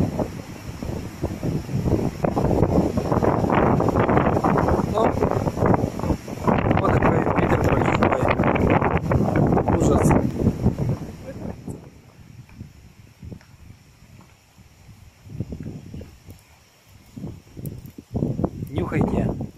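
Strong storm wind buffets the microphone at a picnic where chicken shashlik is being grilled outdoors, roaring heavily for about ten seconds before easing into gusty rumbles as people talk.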